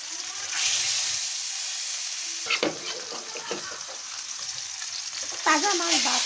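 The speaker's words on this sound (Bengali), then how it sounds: "তো মাছগুলো আমি এক এক করে ভাজা নেব" Pieces of katla fish frying one at a time in hot oil in a pan, a steady loud sizzle throughout with brief spattering bursts as pieces are moved or turned.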